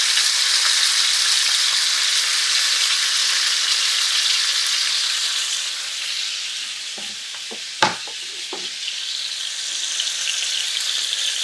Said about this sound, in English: we're going to lightly brown these, just give them some color